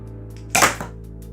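A motorized Nerf blaster, its trigger pressed by an attached motor, fires once with a sharp, loud snap and a brief second pop close behind, over a steady low hum.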